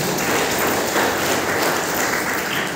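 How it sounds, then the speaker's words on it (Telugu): An audience at a community picnic gathering claps together, a dense, loud, continuous applause that fills the whole moment without pause. "వాళ్ళకి మనందరం కూడా చప్పట్ల ద్వారా మన యొక్క అభినందన తెలియజేస్తాం"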